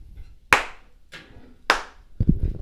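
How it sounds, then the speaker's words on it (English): Sharp, loud hand claps ring out alone in a quiet room at home, three distinct claps spaced roughly a second apart, followed by a soft thud. "I'm going to give a clap here."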